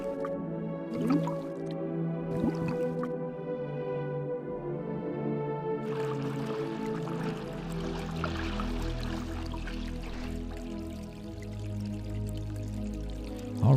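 A character dives into water in the adventure game The Dig: soft dripping and watery squishes over a low musical drone, then a denser submerged gurgle and rumble takes over midway and continues, with no talking.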